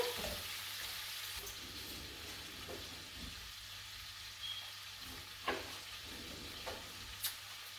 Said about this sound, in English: We've got a nice little simmer going on.